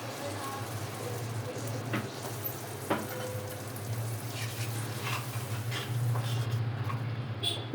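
A pan of fish curry bubbles and sizzles steadily at close range, with a few soft clinks near the middle and a slightly louder simmer toward the end.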